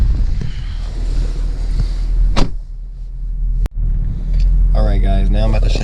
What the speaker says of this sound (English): It's windy as hell out here in Mexico.